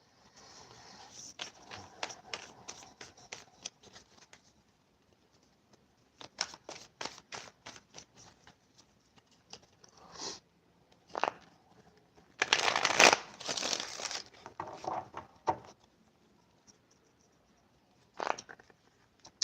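Tarot cards are shuffled in repeated riffling bursts separated by pauses, close and crisp, with a louder rustling flurry near the middle and a last short riffle at the end.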